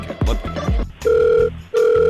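A phone call is placed: a brief muffled voice, then two long, steady electronic ringback tones, each about half a second, clear and close.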